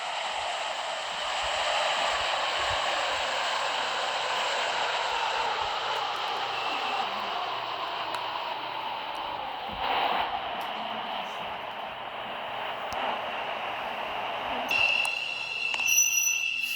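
A train in a video game rolls steadily along the rails, a continuous rumbling hiss with a faint wheel whine, joined near the end by a brief high electronic tone.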